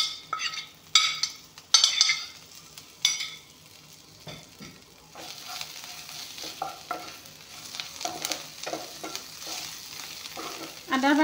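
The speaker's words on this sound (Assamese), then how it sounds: "আদাৰ পাতখিনি বেছিকৈ ভাজি নলওঁ।" Ginger leaves fry and sizzle in a pan while a utensil stirs and scrapes them in irregular bursts, with a steady hiss running underneath and no talking.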